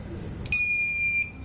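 An electronic buzzer on a solar-powered, ESP32-CAM water-surface garbage-collecting boat kit sounds at startup. A soft click is followed by a single shrill, steady beep of under a second in a quiet room.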